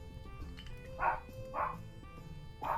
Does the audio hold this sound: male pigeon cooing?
no